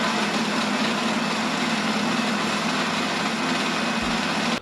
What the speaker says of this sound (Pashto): دا به هم د یو بل سره په ماشین کې دغسې مکس کړئ